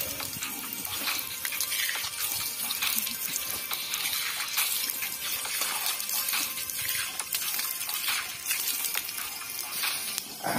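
Water splashes and gushes as someone washes at Moina Pukhuri, a pond in Assam, making a loud, continuous, close-up churn with irregular splashy bursts that runs the whole time.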